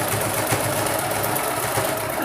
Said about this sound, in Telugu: అందుకని ఇది స్టిచ్ చేస్తున్నాను.